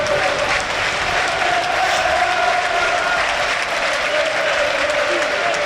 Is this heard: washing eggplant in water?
no